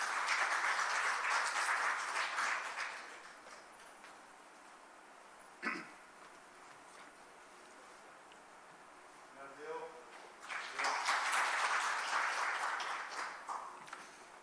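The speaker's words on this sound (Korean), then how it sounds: "큰 박수로 맞이해 주십시오." An audience at a conference on the pandemic and East Asia gives a round of applause that fades, then someone speaks briefly over quieter sound before a second burst of clapping swells and continues to the end.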